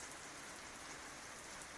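Heavy, steady rain pours down during a thunderstorm in the woods, a dense continuous hiss with no voices and no thunder in this short stretch.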